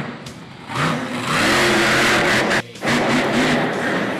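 A 10,000-pound, 1,500-horsepower monster truck engine revs hard at a monster truck show, a loud sustained roar climbing in pitch, dipping briefly near the end, then surging back.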